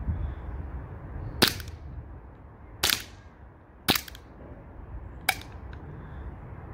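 A Gen 4 Glock 17 air pistol fires four sharp cracking shots, spaced about a second or more apart, close and clear over a low background hiss.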